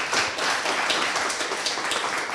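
Conference audience applauding a speaker at an EU energy and climate event, steady dense clapping throughout at moderate level with no talk over it.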